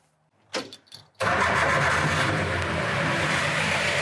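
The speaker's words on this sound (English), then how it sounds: "you guys can hear it run" A couple of cranking sputters, then a Willys CJ-3A Jeep engine catches and roars to life, settling into a loud, steady running rumble nearby.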